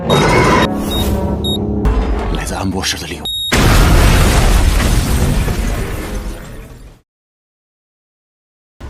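A loud, booming grenade explosion inside a train car bursts out over a dense mix of other sound, then cuts off abruptly into silence.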